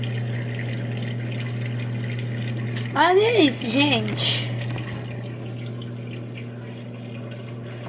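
Brastemp 5 kg washing machine draining water: a steady rushing, humming flow runs throughout, with a person speaking briefly midway over the sound.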